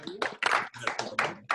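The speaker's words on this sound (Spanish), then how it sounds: "aplauso para Antonio" Applause for a speaker at a lecture, heard as a few uneven bursts of clapping from a small number of hands, close and moderately loud.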